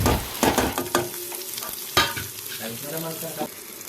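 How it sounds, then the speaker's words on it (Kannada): Onion and mustard seeds frying in hot oil for a Tulu-style tempering, with a close, busy sizzle and crackle broken by several sharp stirring scrapes of a spoon against the pan. "ಒಗ್ಗರಣೆಗೆ ಎಣ್ಣೆ ಸಾಸಿವೆ ಬೊಕ್ಕ ನೀರುಳ್ಳಿ ಪಾಡ್ದು ಕೆಂಪಾನ ಮುಟ್ಟ ಫ್ರೈ ಮಾಡ್ಬೋದು"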